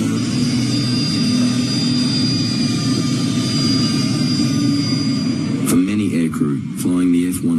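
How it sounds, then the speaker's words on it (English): An F-111C jet with afterburners gives a loud, steady roar and a high whine, with a voice talking over it near the end. "The F-111 can dump and ignite fuel with the afterburners."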